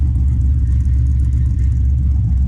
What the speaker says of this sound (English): you can hear cars